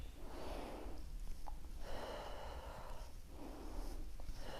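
Slow, deliberate breaths drawn in and pushed out during a pregnancy exercise with a small ball, soft and close with airy rushes repeating at a calm, even pace.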